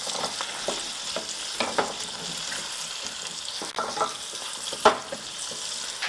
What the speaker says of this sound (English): So let's put the potato in now and let that go for a minute or two.